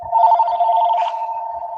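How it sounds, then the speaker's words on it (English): A telephone ringing: a steady, loud electronic trill held throughout, close and uninterrupted. "I have phones ringing off the hook."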